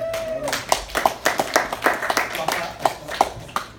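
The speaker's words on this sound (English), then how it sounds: "Everybody hand clap." A church congregation claps along in a steady rhythm of distinct hand claps, fairly close, with a voice talking over the beat.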